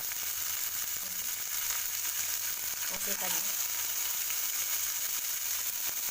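Cumin and mustard seeds spluttering in a little hot oil, a steady crackling sizzle that runs throughout with a few louder pops near the middle.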